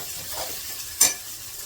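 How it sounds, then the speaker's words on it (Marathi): A spoonful of ghee sizzles with spices in a hot tempering for moong dal, a soft steady fry with one brief louder crackle midway. "फोडणीमध्ये एक चमचाभर तूप घालायचं मुगाच्या डाळीला तुपाची फोडणी खूप छान लागते"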